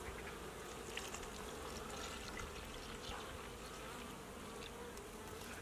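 Honeybees at a hive being fed syrup in autumn keep up a continuous, dense buzzing drone, fairly faint and steady throughout, with no talking.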